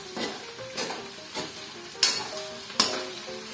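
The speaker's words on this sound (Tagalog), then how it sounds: "And then let's mix it." Pork stirred in a hot pan for a creamy Bicol Express, a steady sizzle broken by several scraping stirs, with sharp utensil clicks against the pan near the end.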